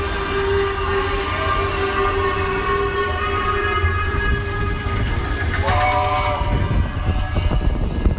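Expedition Everest theme-park coaster train rolling steadily along its rails at a Florida park, a continuous loud rumbling clatter with a sustained tonal whine, uninterrupted for the whole stretch with no talking.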